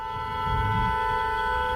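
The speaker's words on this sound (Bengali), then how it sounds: "হর্ন মারতেছে" A train horn sounds in one steady sustained blast, heard from a distance with faint rumbling and background noise, with no talk over it.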